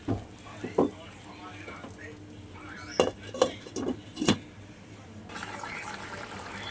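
A cooking pot of fish-head pumpkin curry is covered with its lid, producing a handful of metallic clanks and knocks in the middle over a low kitchen hum, with a voice talking.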